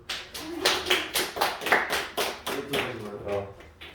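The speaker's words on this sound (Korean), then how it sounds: "박수." Students in a classroom clap slowly and loosely in a rough group beat of heavy, thudding handclaps, with a few faint voices mixed in.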